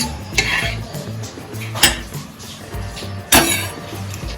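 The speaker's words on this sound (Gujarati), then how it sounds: "તો 2 થી 3 ચમચા જેટલું આપણે ઘી એડ કરીશું." A spoon knocks and scrapes against a medium-sized bowl in three sharp clinks as ghee goes into Kathiyawadi jaggery churma, with a low steady hum beneath.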